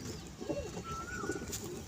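Pigeons at a home loft give a soft, low coo, near and brief, over a light background hum.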